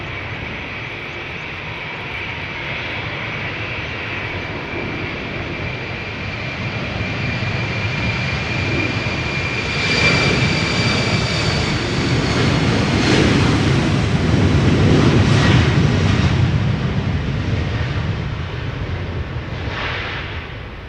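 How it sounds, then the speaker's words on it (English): An Embraer 190 jet takes off from the Polderbaan runway at Schiphol, its engine roar building steadily from a low rumble to a loud, broad wash with whining tones, peaking around the middle before easing slightly as it passes nearby. "It's time for the Embraer 190 to take off."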